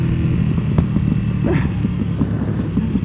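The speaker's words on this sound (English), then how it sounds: "This bike sounds so good, dude." A BMW M1000RR motorcycle engine idles loudly and steadily nearby with a deep, continuous rumble and a few faint clicks, no talking.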